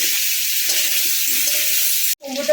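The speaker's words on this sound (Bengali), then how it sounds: "আবার একটু মেরে চেড়ে নেবো এখনও কিন্তু ভালো করে ভাজা হয়নি" Turmeric and pumpkin frying in a pan while being stirred, a steady bright sizzle with soft scraping, briefly cut off near the end before resuming.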